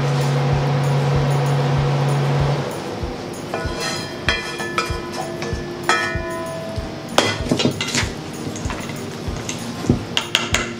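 Thick homemade sauce for a tokwa't baboy dish is stirred with a utensil in a pan, giving repeated scraping, knocking and clinking strokes, close and fairly loud, with a steady hum at the start.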